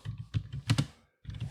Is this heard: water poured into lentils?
no